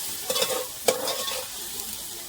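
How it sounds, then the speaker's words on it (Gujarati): Chicken with salt and turmeric stirred in a hot pan, a couple of quick scraping strokes over a low, steady sizzle, close and fairly quiet. "હવે આપણે મિક્સ કરી નાખીએ હળદર ને"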